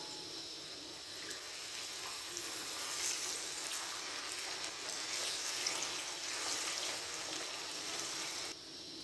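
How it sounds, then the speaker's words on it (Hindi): Chicken fries with browned onions in a pot, producing a steady, faint hiss of sizzling that stays even and continuous throughout, with no voices. "अब यहाँ पे हम कम से कम 5 मिनट के लिए चिकन की भुनाई करेंगे।"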